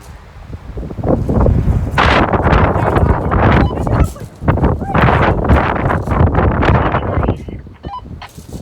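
Strong gusting wind during a wind storm at about 50 miles per hour, roaring and buffeting the microphone in loud surges, with a voice speaking through the noise.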